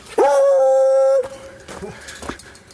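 Dog at a dog park gives one long, loud, close whining howl that holds steady for about a second, followed by softer short whimpers and yips.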